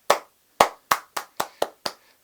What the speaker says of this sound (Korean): 큰 박수 한번 보내드리고 싶습니다